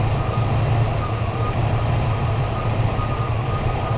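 A vehicle called the Pale Horse, just tuned up and firing on all cylinders: a steady, even engine idle with a deep, constant rumbling hum that holds loud and unbroken throughout, with no voices.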